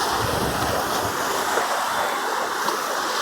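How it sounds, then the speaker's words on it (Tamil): Sea waves at Kovalam beach give a continuous, loud, broadband roar of surf mixed with wind noise, with no voices heard. "அலைகளை பாருங்கள்"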